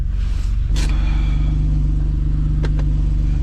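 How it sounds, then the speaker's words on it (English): Engine of an Infiniti G37 running steadily in snowy conditions, a loud continuous low rumble with a steady hum, plus a few brief higher clicks and whooshes near the start and end. "all of a sudden now the car's running"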